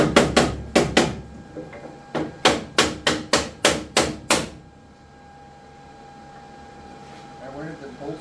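Gentle hammer taps land on a wooden block while fitting a bus bar transition piece on a burnt-out electric meter bank, about eleven crisp knocks in two rhythmic bursts, followed by quiet room hum.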